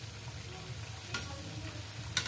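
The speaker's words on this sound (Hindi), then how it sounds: "देखिए दोस्तों, ये फ्राई हो रहे हैं" Chopped onion, tomato and green chili fry in a pan for a spicy chili potato dish, giving a steady low sizzle with a few scraping stirs of a utensil, fairly close and moderately quiet.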